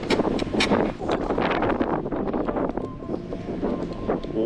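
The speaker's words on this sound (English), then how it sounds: "Wow, it's windy." Strong wind buffets the microphone in loud, rumbling gusts in a remote Tunisian national park, with faint background noise and a brief voice-like sound early on.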